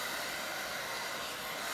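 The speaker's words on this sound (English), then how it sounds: "I'm going to use my hairdryer" A hair dryer blows steadily at close range, drying an art journal, a constant broadband whoosh with no other sounds.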